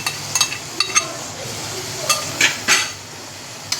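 Minced meat goes into a hot pan of spices for kima chana, giving a steady close sizzle broken by scattered clinks and scrapes of a utensil against the pan.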